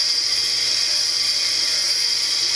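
Rotary tool running at a steady 5,000 to 6,000 RPM while retouching a finished fire agate stone, a continuous high whine with no breaks or talk throughout.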